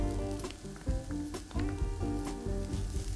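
Onions and tomato paste sautéing in a pot for braised short ribs, a steady sizzle with scattered pops and stirring scrapes. Prominent low tonal music-like hum runs underneath throughout.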